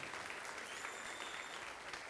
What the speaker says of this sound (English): let's give one more round of applause for the hard work